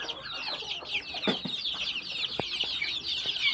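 Young chicks cluck and cheep near the listener while pecking at a leaf-plate meal, a steady chatter of soft peeps and short clucks with a few sharp pecking taps.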